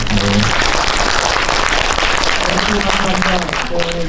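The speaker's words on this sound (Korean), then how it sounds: "박수 부탁드립니다." Audience applause in a cinema at a film anniversary talk event, dense continuous clapping filling the room, with brief voices at the start and end.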